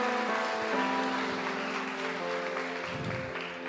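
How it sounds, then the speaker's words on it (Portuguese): A church congregation applauding the Lord, a steady, fairly close wash of clapping with a sustained tone and a voice underneath, easing off slightly near the end. "Você pode aplaudir o Senhor Jesus?"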